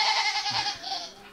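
Kid goats outdoors on a farm let out a short, clear, nasal bleat that is close and fairly loud, with faint background noise.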